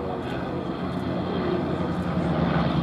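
Tiger Nine display team aircraft flying past at an air festival at Duxford, picking up speed to around 110–120 mph: a loud, steady propeller-engine drone that holds throughout, with a commentator talking over it.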